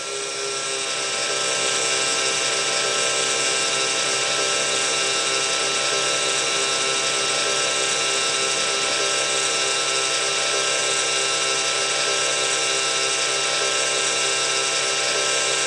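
A radio-controlled model helicopter hovering nearby, its motor and rotors producing a loud, steady high-pitched whine with harmonic buzzing that spins up in the first seconds and then holds constant.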